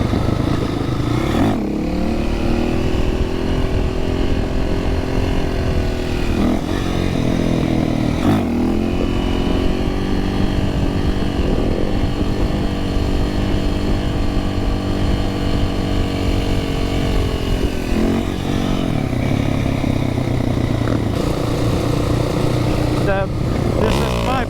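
A supermoto motorcycle rides along an open road, its engine droning steadily and loudly throughout with shifts in pitch as it accelerates and eases off, wind rush underneath, and a voice talking over it.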